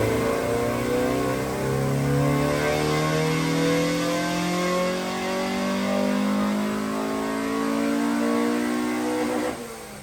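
A Honda D15b SOHC VTEC engine on a dyno, revving in one long rising pull with a climbing harmonic whine, loud and close, cutting off abruptly near the end.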